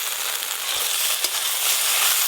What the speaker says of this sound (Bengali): দেখো, ভালো করে ভাজতে হবে তো ভেন্ডি।